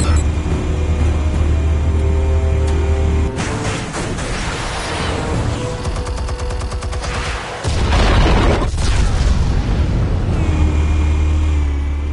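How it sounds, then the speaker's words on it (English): Explosives going off in Batman: The Telltale Series, a dense run of heavy booms and crashing blasts over a droning game soundscape, loud and sustained with a brief lull before another burst. "Explosives armed. Fire when ready."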